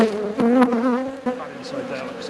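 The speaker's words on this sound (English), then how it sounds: "These bees are not happy right now." Agitated honey bees hum and drone from an opened beehive, a close, continuous buzz that rises and falls in pitch as individual bees swoop near, heard alone without talk.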